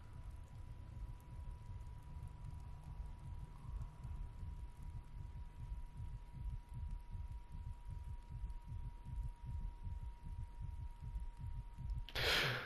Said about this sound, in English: if you stare at them long enough, you can actually hear a heartbeat